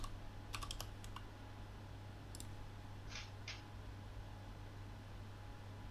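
Someone types on a mechanical computer keyboard, with a few quick clusters of sharp clicks and a couple of isolated taps over a quiet background hum.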